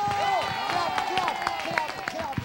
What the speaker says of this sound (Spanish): hay que brindarles un aplauso sensacional